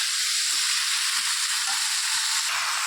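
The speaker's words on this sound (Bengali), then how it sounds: "দিয়ে ভালো করে চিকেনটাকে মিক্স করে নেব মশলার সঙ্গে" Chicken being stirred with spices in a hot pan gives a steady, loud sizzle and frying hiss throughout, with soft scraping stir strokes surfacing every half second or so.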